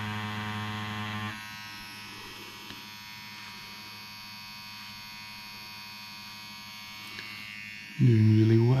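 A Dragonhawk Mast Fold tattoo machine with a 5-round liner, run at 8 volts with a 3.6 mm stroke, gives a steady electric buzz and hum that drops quieter after the start and jumps loud again near the end.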